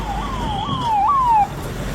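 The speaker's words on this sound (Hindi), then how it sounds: "चारों तरफ एम्बुलेंस के सायरन गूंज रहे थे।" Ambulance siren wailing in a rising and falling two-tone sweep, fairly close and loud, with faint background hum and no speech.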